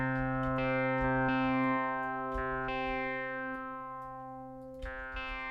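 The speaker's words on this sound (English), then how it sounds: "So what you can do is use this high pass filter." A sustained subtractive synthesizer tone is played through a high-pass filter that strips away its low end, holding steady with a few retriggered notes and fading slightly toward the end.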